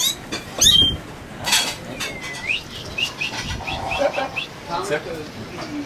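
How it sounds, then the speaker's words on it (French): Birds visit a sailboat for bread crumbs, with bursts of flapping wings and scattered chirps, close by, amid clinking dishes and people talking. "Il y a des oiseaux qui nous visitent."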